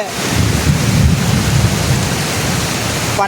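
Heavy monsoon rain pours steadily and loudly around an outdoor pandal and stage at a school in Tung, Assam, forming a dense, unbroken roar with a low rumble underneath.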